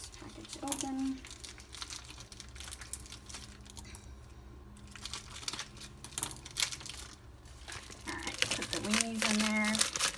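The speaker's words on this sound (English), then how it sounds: "Let me cut this package open." Crinkling and tearing of a plastic package of wieners being cut open, close and fairly quiet, with rustling throughout and brief squeaky bursts near the start and end.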